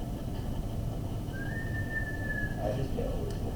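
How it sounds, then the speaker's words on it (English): A person whistles briefly while wearing a face mask, producing a single thin sustained tone over a steady background hum, followed by a couple of faint short chirps. "it's hard to whistle while you're wearing a mask"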